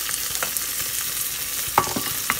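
Onions and cilantro frying in a pot, a fairly loud, even hiss with scattered spoon knocks and one sharper clack near the end, no voices.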